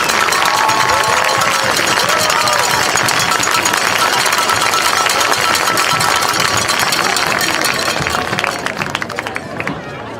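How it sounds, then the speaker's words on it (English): Crowd applause and cheering for the USF Cougars at a football event, a dense, loud wash of clapping and voices that runs throughout and tapers off at the end. "Ladies and gentlemen, please give a warm round of applause for our USF Cougars of"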